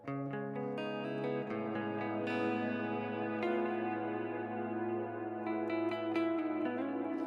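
A guitar riff rings out through heavy reverb, its notes overlapping and trailing into a wash of echo, played continuously and fairly softly with no voices.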